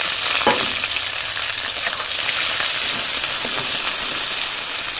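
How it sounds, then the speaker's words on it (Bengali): Bay leaf, five-spice, onion and green chili hit hot oil and set off a loud, dense, continuous hiss and sizzle, close up, with a brief clatter near the start and no talking. "তেল গরম হয়ে গেছে, প্রথমে দেব তেজপাতা, তারপরে দেবো 5 ফোড়ন, তারপরে দেবো পেঁয়াজ কাঁচা লঙ্কা।"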